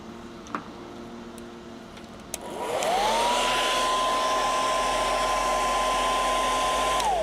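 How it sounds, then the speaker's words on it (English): A hair dryer on its low setting switches on with a click and rises into a steady whir with a constant tone, running evenly and close by. "I'm going to use the hairdryer, but I'm going to put it on the low setting so it's just kind of gentle"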